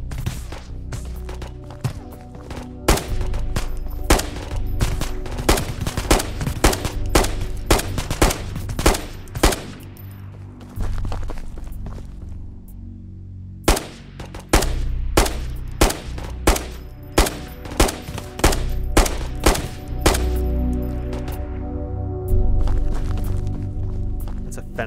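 Rapid bursts of gunfire from a hardcore Ghosts of Tabor VR firefight ring out in loud, repeated volleys, with sharp single shots between sustained automatic strings and a brief lull in the middle.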